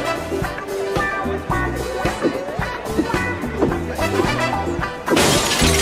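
Glass candy shattering in a Family Guy cartoon scene: a sudden loud smash and crash bursts out near the end, following a stretch of background music.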